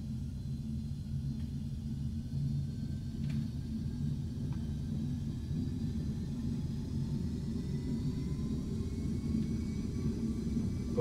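Carenado Premier 1 business jet in the FSX flight simulator, a steady low engine rumble and drone that stays even throughout, with faint thin tones drifting above and no voices.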